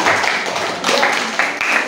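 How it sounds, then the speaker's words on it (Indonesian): A classroom audience claps together at the close of a lesson, a dense steady patter of many hands lasting about two seconds, with a voice briefly audible through it. "tepuk tangan dong"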